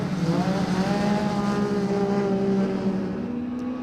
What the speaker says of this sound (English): He drifts out wide where it's all muddy and boggy, powers his way back onto the road